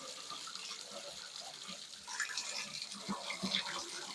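Water runs steadily from a shower valve, a continuous hissing spray that swells louder about halfway through, with faint handling knocks near the end.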